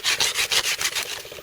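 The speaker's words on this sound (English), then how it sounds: "Just taking the edges off it, so they sit down nice and neat." Rough edges being rasped or sanded off a wooden fence stake for a Roman-style garden fence, a close, rhythmic back-and-forth scraping of about seven strokes, each stroke a bright gritty rub, with no talk.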